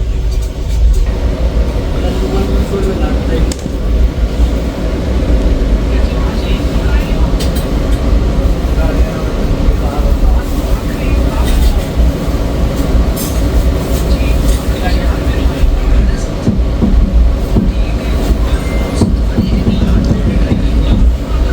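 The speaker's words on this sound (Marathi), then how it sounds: "सो तर आता फायनली ट्रेन चालू झाली." Ajmer–Solapur special express train getting underway and running, a loud continuous low rumble with rattling carriage noise and rhythmic clatter heard from inside the coach, with people talking over it.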